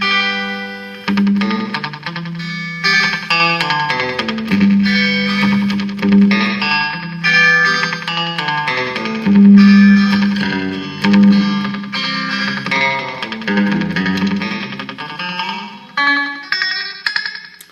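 A late-1960s Barcley electric guitar plays a clean country lick through slap back echo, bright twangy notes each followed by a quick repeat, rolling continuously for nearly eighteen seconds with no talking.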